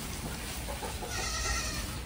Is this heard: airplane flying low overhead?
no